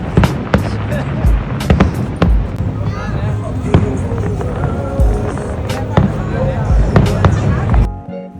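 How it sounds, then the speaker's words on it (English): Fireworks pop and bang in scattered bursts at a night show at Niagara Falls, with crackling between blasts over a steady crowd murmur and people talking nearby. "who doesn't love a good fireworks show"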